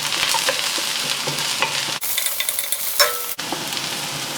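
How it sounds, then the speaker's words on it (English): Minced garlic frying over high heat for Thai minced pork, with a steady loud sizzle and scraping stir strokes; the hiss cuts off sharply twice as the pan is moved or stirred. "Add in your garlic next. So we're using high heat,"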